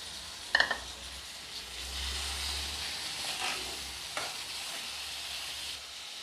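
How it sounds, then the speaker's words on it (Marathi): Eggplant is tipped into a cooked tomato masala in a pan, a brief clatter at the start giving way to a faint, even frying hiss with an occasional soft tap, fairly quiet and without speech. "आता आपण वांगे टाकतो"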